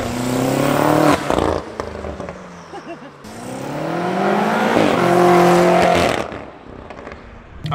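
A turbocharged BMW M5 engine revs hard in repeated surges, rising and falling in pitch with a whooshing turbo top end, loud and close throughout.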